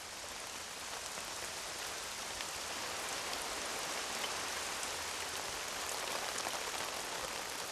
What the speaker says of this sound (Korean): 이내 예상대로 굵은 빗방울이 내리기 시작한다.